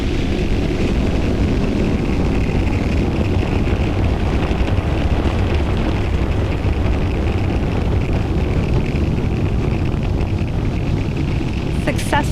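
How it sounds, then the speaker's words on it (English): A SpaceX Falcon 9 climbs away from Space Launch Complex 40 at Cape Canaveral, Florida, with a loud, continuous rumbling roar and wind buffeting that holds steady throughout, with voices heard over it. "Successful liftoff from Space Launch Complex 40 in Cape Canaveral, Florida."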